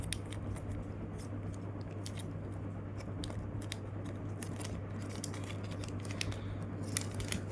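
Paper being creased and folded into an origami jet, quiet crisp crackles and taps scattered through the stretch over a low steady hum, close and faint.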